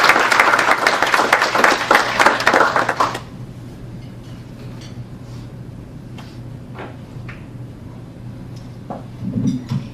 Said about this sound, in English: Let's give a round of applause to Dr. Conati.